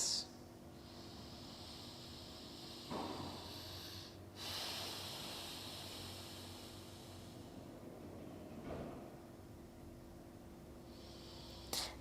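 Slow, relaxed breaths during a yoga forward fold, with a few soft inhales and exhales spaced several seconds apart over a quiet, steady background hum.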